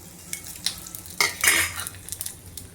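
Fenugreek seeds, dried red chilli pieces and cumin tempering in hot oil for a sweet potato pulusu, with soft crackling sizzle and a few scraping stirs of a spoon against the pan, close and clear with no talk.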